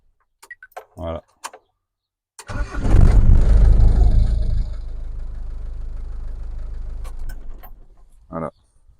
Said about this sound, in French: Camion de 30 ans en arrière qui démarre